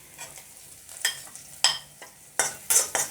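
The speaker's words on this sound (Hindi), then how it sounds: "अब इसको थोड़ा सा हम स्लो आंच में चलाएंगे" A spoon stirs ginger-garlic paste and spices in a pan over low heat, making repeated scraping strokes over a soft, steady sizzle, near and fairly clear, with no talking.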